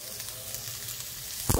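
Onion and ginger sizzle in hot coconut oil, a steady close hiss of frying with a sharp clatter of a utensil near the end.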